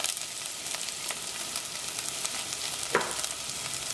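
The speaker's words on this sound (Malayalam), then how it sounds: "ഇനി ഇതിലേക്ക് നല്ല ചെറുതായിട്ട് കട്ട് ചെയ്ത് വെച്ചേക്കുന്ന സവോള ചേർക്കുക." Finely chopped onions hiss and sizzle in hot oil with popped mustard seeds, a continuous close frying crackle with light stirring scrapes and one sharper clatter midway.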